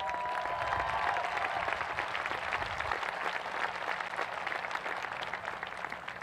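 A community crowd at the Eastmont High School Class of 2021 graduation claps steadily for the graduates, a dense even wash of applause throughout with faint cheering near the start.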